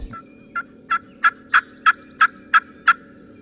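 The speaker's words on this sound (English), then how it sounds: "The turkeys were gobbling" Wild turkeys gobble in a series of about nine short, evenly spaced bursts, clear and moderately near, rising in strength then holding steady over a low background hum, with no talk.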